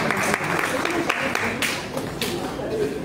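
A church congregation at a prophetic worship service claps and applauds to acclaim Jesus Christ, a steady wash of hands with voices over it.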